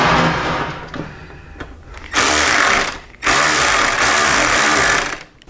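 Power tool tightening the windshield bolts on a Harley-Davidson Low Rider S/ST sport fairing, whirring loudly in two sustained bursts of a few seconds each after quieter handling noises.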